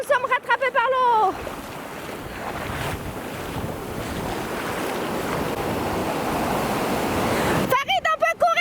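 Ocean waves surge in at high tide on a beach in Senegal, a steady rushing wash mixed with wind noise on the microphone. Brief voices cry out at the start and the end.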